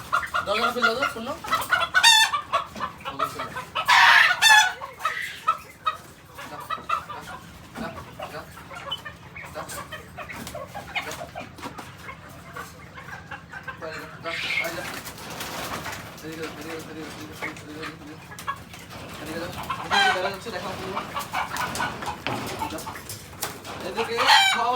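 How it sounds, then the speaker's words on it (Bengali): Free-range native chickens roam an open space, clucking often and crowing now and then, close and fairly loud, while someone talks at intervals. "এই যে এই জায়গায় আমি মুরগি পালি, দেখেন এই ওপেন স্পেসে মুরগি থাকে আমার"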